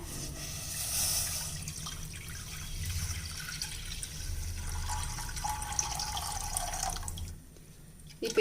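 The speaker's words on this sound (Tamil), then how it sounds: "இப்போ நம்ம எடுத்து வச்சுருக்க 4 பங்கு பால் சேர்த்திடலாங்க." Milk is poured into a pressure cooker on a stove as part of a sweet dish, a steady close-up stream of splashing liquid lasting several seconds before it stops abruptly.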